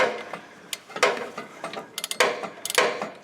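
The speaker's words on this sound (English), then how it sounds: "I'm just kind of torquing this down and getting this tight" Ratchet wrench torquing down a motor mount bolt on a Honda S2000, with bursts of quick metallic clicks in uneven runs separated by short pauses, close up and fairly quiet.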